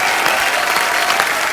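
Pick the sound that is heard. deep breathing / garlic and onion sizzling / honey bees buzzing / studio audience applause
studio audience applause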